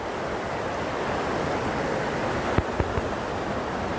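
Water rushes steadily over a spillway, a continuous broad roar close by and alone, with a few faint knocks near the end.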